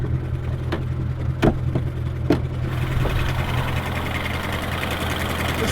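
A Ford Mustang GT with a Borla S-Type exhaust and a failing MT-82 transmission idles with a steady low rumble, a few sharp knocks early on, then the running sound grows brighter and fuller.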